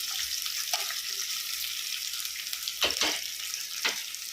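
Pieces of beans, potato and carrot frying lightly in oil, giving a soft continuous sizzle with a few brief scraping stirs near the end, close and moderately quiet with no speech.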